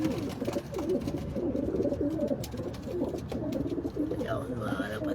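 Pigeons coo in repeated soft, throaty bursts, close by and overlapping, while a voice talks faintly in the background.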